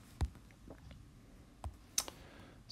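Calculator keys being pressed to enter numbers, a few sparse, soft plastic clicks spaced irregularly in an otherwise quiet room, close and faint, with no voices.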